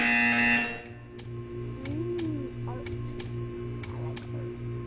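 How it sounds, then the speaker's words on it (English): A loud electronic buzzer in Portal 2 blares for under a second, then a steady hum continues with regular faint clicks ticking along. "When you hear the buzzer, stare at the art."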